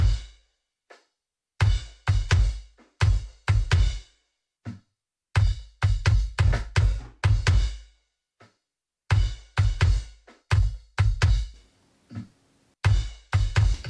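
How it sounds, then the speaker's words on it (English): Kick drum heard through a mono ambience microphone in a full band production, with punchy low thumps in rapid repeated bursts and fills, separated by short gaps of silence, loud and roomy. "So it's just a bit of mono ambience to the kick drum"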